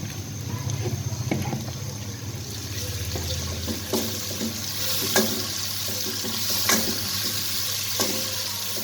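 Tomatoes and green chillies frying with garlic in a pan, a steady close sizzle broken by scattered clinks and stirring scrapes, with no one speaking.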